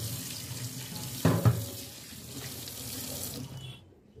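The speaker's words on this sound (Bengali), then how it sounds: "তো এখন জলটা চালু করে দিয়ে কিছু সময় একে জলের মধ্যে বসিয়ে রাখবো" Tap water runs steadily into a kitchen sink, a close, even rushing stream with a brief clatter partway through, then the flow cuts off near the end.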